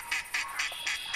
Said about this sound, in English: a flock of ducks. And they sound really weird.